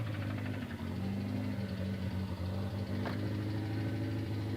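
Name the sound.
Toyota pickup engine running, aftermarket exhaust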